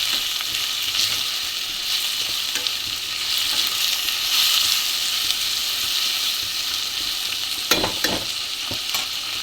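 Garlic and ginger are stir-fried in a pan for hotel-style potato palya, producing a loud, continuous sizzle with a cluster of spatula scrapes and knocks toward the end.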